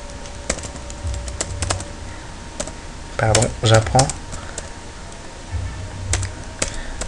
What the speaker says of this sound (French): Donc on tape printfile et on saisit par exemple ce qu'on veut.